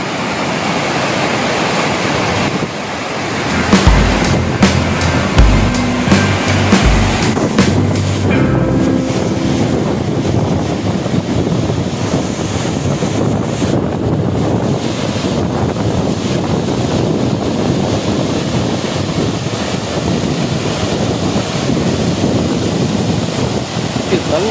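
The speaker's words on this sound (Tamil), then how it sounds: "ரெட்டை அருவி மாதிரி சூப்பராக விழுகுது." A loud, steady roar of falling water from the Chinna Suruli double waterfall fills the whole stretch, with wind buffeting the microphone and a few brief tones near the start.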